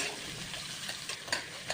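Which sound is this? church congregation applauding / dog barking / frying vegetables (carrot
frying vegetables (carrot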